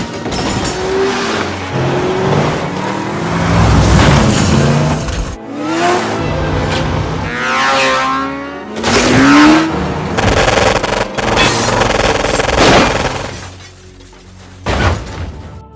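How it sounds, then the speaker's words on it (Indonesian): A film car chase with gunfire: loud, continuous turmoil of engine roar, shattering impacts and sharp bursts of shots, dense and chaotic throughout. "Dengan susah payah, Maria berusaha melepaskan diri dari kejaran anak buah John yang terus menembaknya."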